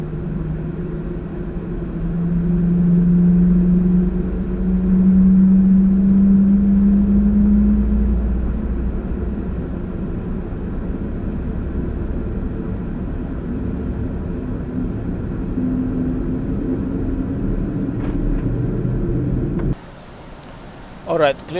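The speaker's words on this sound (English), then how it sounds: "Flight deck engines clear. All right, starting 4, 3, 2, and 1 in sequence." Boeing 747-400 jet engines spool up one after another with a deep rumbling whine heard from the flight deck, steady and loud for most of the stretch before dropping away near the end with brief sounds.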